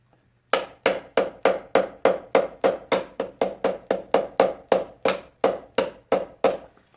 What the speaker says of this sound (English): use the wooden end of the hammer, stick it down into the piston,